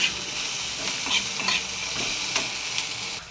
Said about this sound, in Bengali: এদিকে সিম ভাজা হচ্ছে